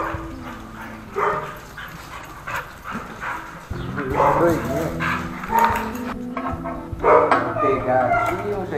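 Excited pit bull dogs barking in repeated bursts, with yips and whimpers, close and loud, while people talk over the barking.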